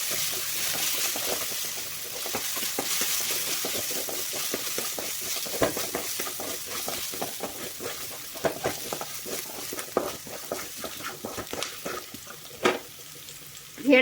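Moong dal and dried red chillies sizzle and crackle in hot oil while being stirred, a steady frying hiss with scattered pops and spoon scrapes, no talking.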